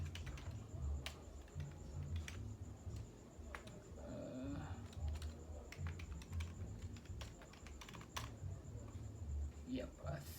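A computer keyboard is tapped in short quick bursts of light clicks while a password is typed for a trading platform account, close and fairly faint, with a quiet background hum.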